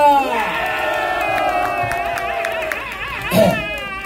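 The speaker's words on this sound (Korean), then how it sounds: "성호 컨설님한테 구국의 박수를 크게 응원해 주시기 바랍니다" A crowd at a political rally cheers and whoops over scattered clapping, voices rising and falling with a louder burst near the end.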